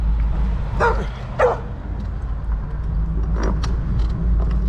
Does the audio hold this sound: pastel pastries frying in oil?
no